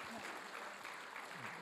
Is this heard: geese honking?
no